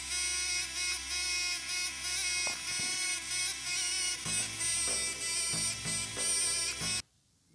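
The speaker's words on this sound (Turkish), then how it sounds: "Evet arkadaşlar bu zil sesi" A bright electronic ringtone melody plays steadily for several seconds, with a pulsing rhythm underneath, then cuts off abruptly.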